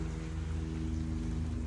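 Steady rain pattering on a Dollar General parking lot, a continuous wash of drops with a low engine-like hum running underneath throughout.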